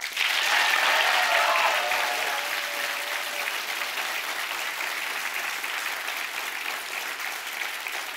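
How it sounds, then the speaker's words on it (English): An audience at a talk applauds loudly and steadily, dense clapping from a large crowd that peaks early and holds at a slightly lower level to the end. "So with that, let's give a round of applause one more time for Mr. Gus Sorola."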